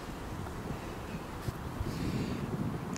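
Steady wind blowing across an open pitch and putt golf course, a continuous broadband rush of outdoor air and microphone buffeting with occasional stronger gusts, no voices.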